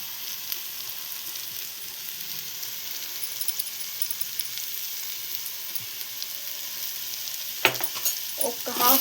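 Dry prawns and tomato curry with a sprinkle of cumin powder sizzle steadily in a pan, a constant close hiss, with a few sharp clatters of stirring near the end.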